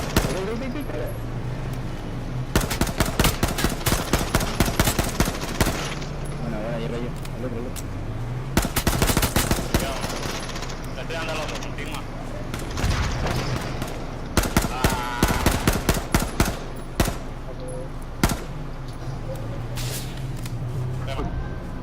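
Gunfire in the online shooter H1Z1, with bursts of rapid automatic shots and single cracks, some near and loud, some farther off, recurring over about twenty seconds while players talk throughout.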